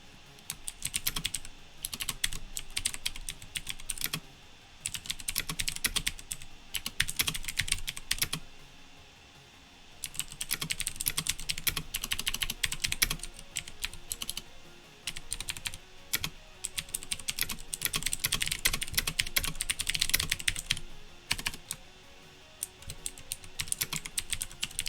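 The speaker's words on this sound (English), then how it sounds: "Serial Wars, I know you said you liked my keyboard sounds, so I made sure that my mic picked them up good." Steady typing on a computer keyboard, close and clear, with bursts of rapid keystrokes broken by short pauses, no talking.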